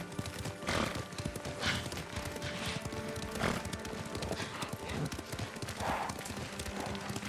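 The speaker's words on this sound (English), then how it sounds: "Lord Sakai taught me to ride a horse." Horse hooves beat in the video game Ghost of Tsushima, a loud, quick, rhythmic clip-clop of a ridden horse with occasional snorts, continuing steadily throughout.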